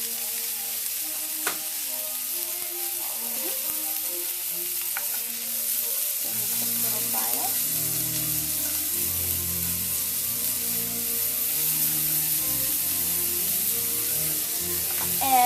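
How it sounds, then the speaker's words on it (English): Finely sliced green and red onions fry in a pan, giving a steady close hiss and crackle with occasional stirring clatter that grows busier partway through. "I've already very finely sliced up my green onion and my red onion. We're just going to give those a quick fry."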